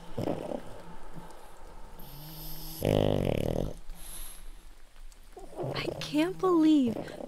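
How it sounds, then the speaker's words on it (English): A dog snores in slow, rumbling breaths, close by, with quiet voices speaking at moments and some squeaky vocal sounds near the end. "believe Brownie's snore is louder than Idrisa's."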